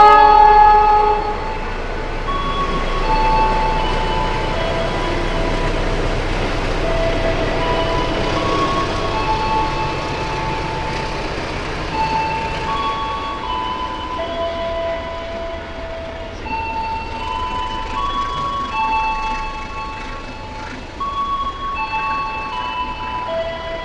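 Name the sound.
Progo economy train running on the rails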